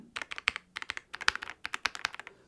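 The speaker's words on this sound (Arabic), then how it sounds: "هذا صوت الكيبورد" Close-up clacking from an RGB gaming keyboard with wooden keycaps, typed in uneven quick bursts of sharp, bright key strikes with brief gaps, no voices over it.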